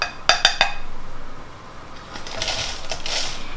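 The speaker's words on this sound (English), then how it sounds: "I'm going to put this into the bundt cake pan" Three sharp metallic clinks ring out as goat cheese cheesecake mixture goes into a metal bundt cake pan, followed by softer scraping and clatter of a utensil against the pan.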